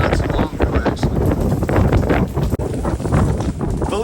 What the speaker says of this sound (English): The wind is blowing directly into the face